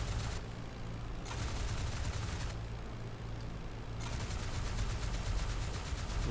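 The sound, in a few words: machine gun fire from a WWI fighter plane in the video game IL-2 Great Battles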